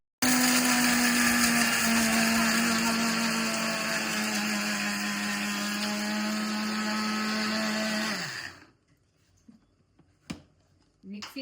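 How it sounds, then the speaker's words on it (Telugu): A kitchen mixer grinder blends masala for a village-style mutton curry, its motor whining loud and steady for about eight seconds before spinning down, followed by near silence broken by a few soft clunks. "గ్రైండ్ చేసేయిగా మెత్తగా."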